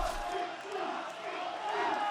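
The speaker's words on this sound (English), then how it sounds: "Crowd's chanting Oski for good reason" A crowd at a park-style skateboarding contest, the Vans Park Series World Championships in Salt Lake City, chants a skater's name in a steady, rhythmic roar that fills the space, loud and sustained from start to finish.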